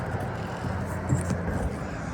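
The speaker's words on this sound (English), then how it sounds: "Sorry for the traffic noise, we're right by a main street too." Traffic rumble from a nearby main street beside an RV parked alongside, a steady low broadband wash with a slight swell midway, heard alone.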